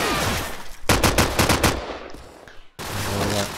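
Rapid bursts of automatic gunfire crackle in a Counter-Strike match at a LAN event, loud and close, with a brief lull and a fading tail before more shooting resumes.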